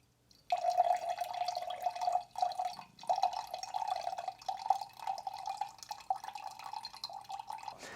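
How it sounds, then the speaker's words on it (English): Water poured through a fine mesh rainwater filter with 3D printed parts trickles steadily, with a continuous dripping, splattering sound, close and fairly quiet. "it seems to be dripping just beyond that little edge there"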